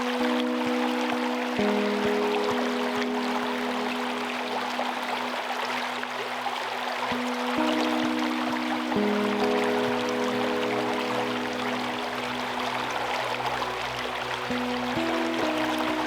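A brook flows through a nature preserve in a steady, continuous wash of running water, with bird calls and faint tonal sounds layered above it and no talking.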